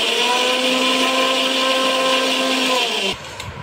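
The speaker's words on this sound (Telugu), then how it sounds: "ఇప్పుడు దీన్ని మిక్సీలో వేసి మెత్తగా పేస్ట్ లాగా చేసుకుంటా ఉన్నాను ఫ్రెండ్స్" Kitchen mixer grinder blending tomatoes into a smooth paste, a loud steady whirring motor drone that runs for about three seconds before cutting off abruptly, followed by brief faint clatter.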